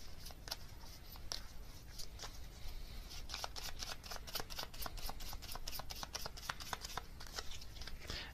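Tarot cards being shuffled and drawn, a quiet, close run of rapid riffling flicks and crisp card snaps that continues throughout.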